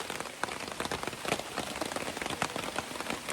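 Steady rain falls through a tree canopy over a forest shelter, making a dense, continuous patter of drops close by with no voices.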